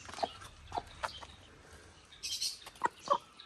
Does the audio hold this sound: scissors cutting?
no